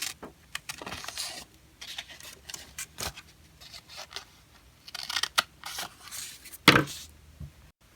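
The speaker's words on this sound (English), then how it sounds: "Once I've done that, I'm going to cut 2 little slits on each side." Scissors snip two small slits into a folded paper card, giving a series of short, crisp cuts with brief pauses between them, close and fairly quiet, with no voices.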